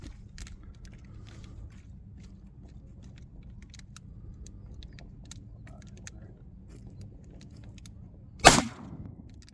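A single sharp gunshot from a Henry mini bolt-action rifle at a shooting outing near Route 66 and Amboy Crater cracks out late in the clip after a quiet stretch.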